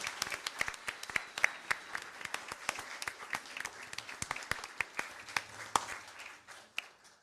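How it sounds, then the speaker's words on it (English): A small crowd at a school board meeting claps steadily, individual hand claps ringing out distinctly in a light, continuous round of applause. "If we can give them a big round of applause"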